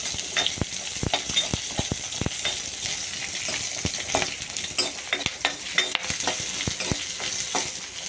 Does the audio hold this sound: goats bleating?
no